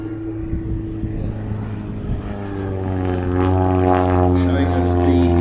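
A single-seat Pitts Special S1 aerobatic biplane in Union Jack colours flies at an airshow, its propeller engine droning with a steady buzzing tone that grows louder and rougher, while a commentator talks over it.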